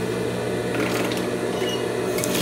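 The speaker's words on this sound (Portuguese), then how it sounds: "Vou passar uma costurinha, não vou nem colocar o alfinete" Sewing machine stitching fabric lining for a scrap-fabric toiletry bag, a steady fast mechanical whirring and rattling throughout, close by with no speech.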